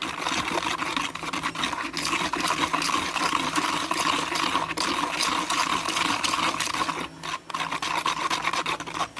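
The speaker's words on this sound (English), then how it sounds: "Just mix it very well." Steady scraping and wet rasping of a thick mixture being stirred for homemade spider enclosure decor, continuous and close, with no talk.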